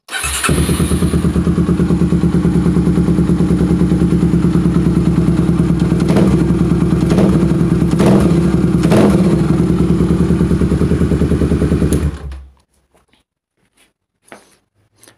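A Honda CBX Twister 250 motorcycle with an aluminium Jeskap GP aftermarket exhaust runs loud and close with a deep, throaty exhaust rumble, revving a few times before cutting off into silence.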